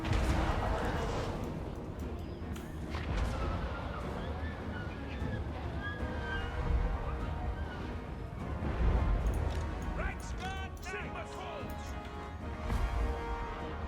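Great Cannon artillery booming in a Total War: Warhammer battle, heavy low blasts recurring over a dense din of combat, with someone talking over it throughout.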